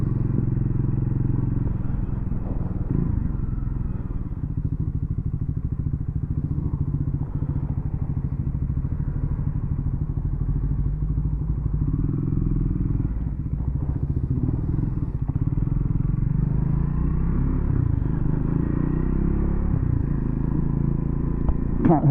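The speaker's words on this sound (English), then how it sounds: "I hope the sound of the exhaust comes out on the video, because it just sounds fantastic" A Triumph Scrambler motorcycle idling at low revs, its exhaust giving a deep, steady burbling rumble with small thumps and clatter, close and continuous throughout.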